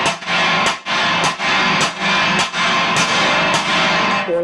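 A trashy china cymbal is struck about eight times in an even rhythm, each crash loud and close with a short ringing decay.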